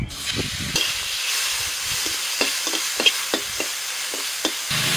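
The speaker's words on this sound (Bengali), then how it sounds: "এবার চিংড়ি মাছ ভেজে নেব।" Shrimp fry in hot oil in a pan, a steady sizzle broken by repeated scraping stirs and small clatters of the utensil against the metal, close and clear without talk.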